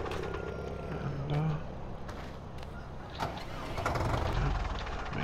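Tractor engine in the video game Farming Simulator 2015 cranks and starts, its low rumble swelling near the end with a brief whir partway through, fairly quiet game audio with no talk.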